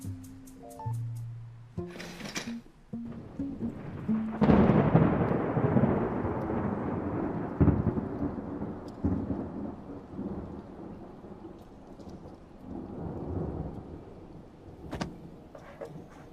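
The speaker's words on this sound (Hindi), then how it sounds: "तूफान हमेशा काम करने के लिए जगा देते हैं।" A thunderstorm with long, rolling thunder that swells after a few seconds of other brief noises, rumbling on over a steady rain hiss and fading with a second roll near the end.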